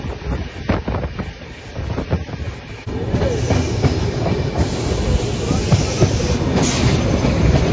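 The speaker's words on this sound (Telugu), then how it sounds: "మన ట్రైన్ క్రూజింగ్ స్పీడ్ మామూలుగా లేదు," A Janshatabdi Express train runs at cruising speed near 130 km/h, a loud continuous rumble and rattle of wheels and carriages with heavy wind rush that grows stronger partway through.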